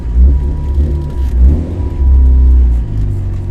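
Mitsubishi Evo rally car easing down a pit lane, its engine a loud, close low rumble with rising and falling revs as it pulls away at low speed, with no voices.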